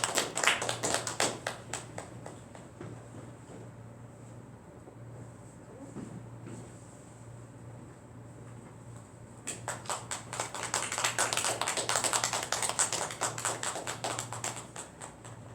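A church congregation applauds during a Sunday morning service award presentation, with bursts of close, rapid clapping at the start, a quieter stretch of scattered claps, then a second sustained round of applause.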